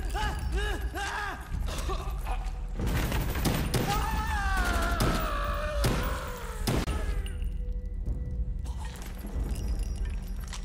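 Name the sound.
gunfire in video game Call of Duty: Black Ops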